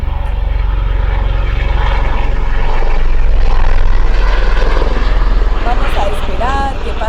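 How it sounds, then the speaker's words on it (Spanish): A helicopter passes overhead, a loud, steady rotor drone that swells in the middle and holds for several seconds before easing off, with faint chirps near the end. "Vamos a esperar que pase un helicóptero que pasó por acá."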